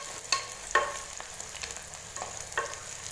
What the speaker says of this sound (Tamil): புதினா இலைகளை சேர்த்துட்டு நல்லா வதக்கி விட்டுக்கலாம்.